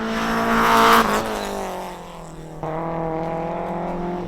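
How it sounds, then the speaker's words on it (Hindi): A rally car at an autocross event, prepared A category, on its second lap, revs hard with a rising engine whine, then briefly drops before climbing steadily again, loud and close. "ये पहले गाड़ी की आवाज़ और फिर गाड़ी की रफ्तार आपके सामने"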